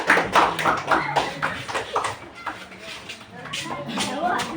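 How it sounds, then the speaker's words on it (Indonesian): A third-grade class claps for a student group during a Pancasila lesson. The claps come in distinct rhythmic bursts, close and moderately loud, mixed with children's voices and a teacher talking. "Beri tepuk tangan untuk kelompok 4."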